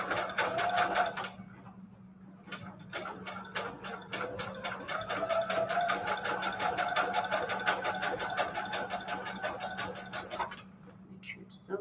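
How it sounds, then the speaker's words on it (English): A sewing machine runs a slightly widened zigzag stitch on junk journal patchwork fabric, a steady fast mechanical chatter with a low motor hum that pauses briefly twice before stopping. Speech is faintly present. "Make sure it's sewing right"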